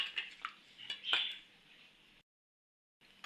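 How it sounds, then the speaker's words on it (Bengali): Soaked rice is washed in water in a bowl, making close clinking and rattling with sloshing for about two seconds, then a short silence before the washing sounds return. "এখন এই চালটা ভালোভাবে 2-3 বার পরিষ্কারভাবে ধুয়ে নিব।"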